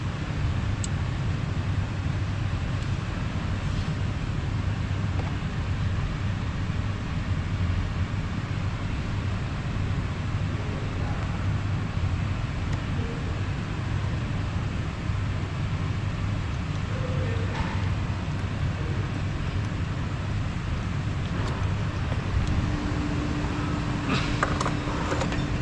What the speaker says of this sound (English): same noise heard at the same power seat function as you can see in the video